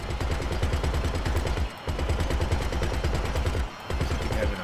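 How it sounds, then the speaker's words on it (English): Turret machine guns in GTA Arena Wars hammer out long, steady streams of rapid fire, loud and close, broken by two brief pauses before resuming. "Those machine guns ought to cause a little slaughter."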